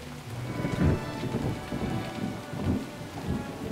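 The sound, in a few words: heavy rain with thunder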